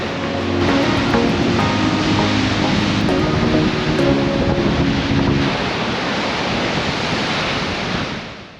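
Ocean surf at The Gap near Albany, heard from a viewing platform over the water: a loud, continuous roar of crashing waves with heavy wind buffeting the microphone and a faint tonal hum early on.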